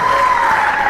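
Applause from a church congregation for a singing group at a Sunday service: a brief, steady, dense burst of clapping with no voices on top.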